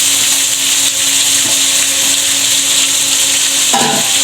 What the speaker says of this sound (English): I will let the onion fry a little bit.